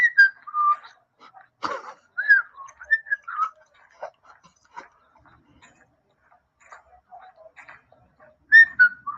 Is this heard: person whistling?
yes